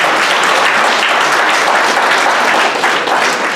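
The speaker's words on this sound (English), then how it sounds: "go ahead and clap" Sustained applause from a public school district hearing audience, dense, steady clapping throughout at close range with no breaks.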